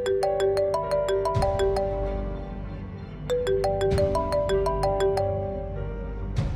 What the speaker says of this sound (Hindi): एसएचओ की कॉल है, अटेंड करो और स्पीकर पे लगाओ जरा फोन को।